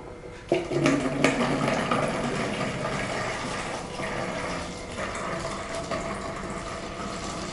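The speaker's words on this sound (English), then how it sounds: "So I'm filling the bottle." Water runs into a plastic bottle in a science experiment, a steady, loud rushing and gurgling that starts abruptly and continues throughout without talk.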